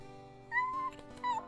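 A cat meows twice in short tonal calls, the first drawn out and the second briefer, close and moderately loud over a quiet indoor background.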